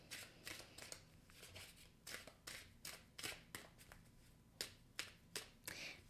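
Tarot cards are shuffled close by in a quick series of crisp, papery riffles and taps that vary in loudness, with no talking.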